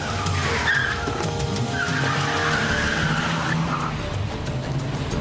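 A car peels away with long, loud tire squeals and skidding over a revving engine, the screech rising and falling for several seconds in a tense street getaway.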